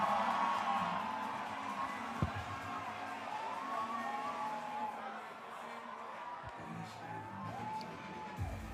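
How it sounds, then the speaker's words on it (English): A crowd cheers and whoops at an X Games snowmobile freestyle medal ceremony in Aspen, a distant, sustained roar with scattered shouts and a few sharp bumps. "Let's get loud and proud for Brett Turcotte."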